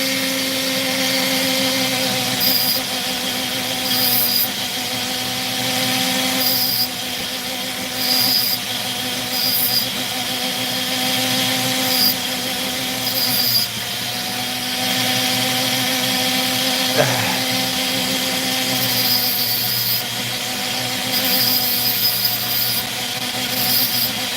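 A Dremel rotary tool grinds away at opal with a continuous high, buzzing whine that rises and dips slightly as pressure changes, close and loud throughout; no talking.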